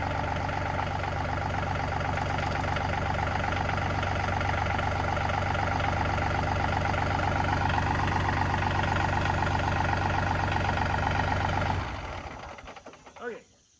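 A tractor engine runs at a steady idle-like drone on a farm, a constant low rumble for most of the stretch before cutting off abruptly near the end, followed by faint handling noises.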